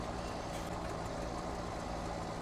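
A tractor engine in the farming game Farming Simulator 17 runs with a steady, even, mid-pitched drone, held at a constant level for the whole stretch with no talk over it.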